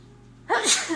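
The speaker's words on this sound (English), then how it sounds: "I sneeze every time I turn it on" One loud, close sneeze bursts out abruptly after a moment of near silence in a home kitchen.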